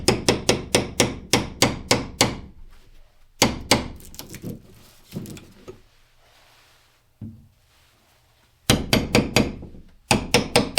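Nails are hammered into a garden shed in quick, sharp, evenly spaced strike bursts, close and loud, broken by pauses and a few isolated knocks before the rapid hammering resumes.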